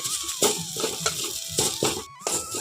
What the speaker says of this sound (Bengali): এইদিকে নিম পাতাটার মধ্যে এখন কিন্তু আমি তেল দেব না এখনও পর্যন্ত কোনো তেল দেইনি এইভাবে খুব ভালো করে হালকা আঁচেই ভেজে নিতে হবে